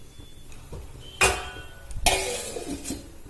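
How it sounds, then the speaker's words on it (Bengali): A lid goes onto a cooking pot of potato and egg curry. Two sharp metallic clatters sound close by, with lighter rattles settling after each. "এবারে ঢাকা দিয়ে পাঁচ মিনিট হতে দেব"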